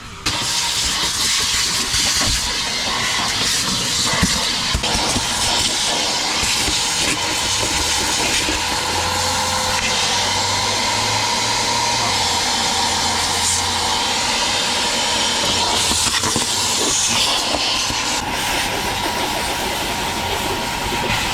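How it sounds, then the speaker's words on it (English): A vacuum cleaner sucks dirt out of a filthy work truck's cab interior, giving a steady, loud, close roar that runs unbroken the whole time with no talking. "so we're gonna vacuum it out real quick"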